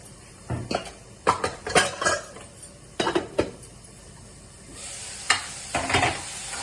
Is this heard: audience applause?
no